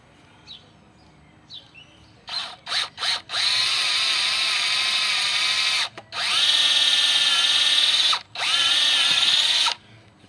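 A power drill whirs up in a few short bursts, then runs in long, loud, steady stretches with brief pauses, boring a hole in a van's body, close by and without talking.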